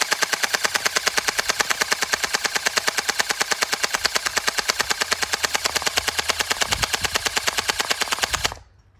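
Gel blaster toy gun fires in one long rapid burst of evenly spaced sharp shots, close and loud, for about eight and a half seconds before cutting off abruptly.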